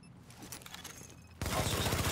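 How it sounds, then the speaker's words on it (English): Rapid burst of video game gunfire hits a fortification, a sudden loud salvo of close, dense shots erupting after a quieter stretch of distant battle noise. "Hostiles are firing on a fortification."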